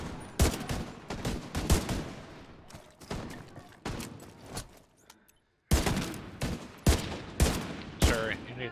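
Rapid bursts of shotgun fire from enemies in The Division 2 boom repeatedly in clusters, loud and close, with brief lulls and a short silent gap before the volleys resume.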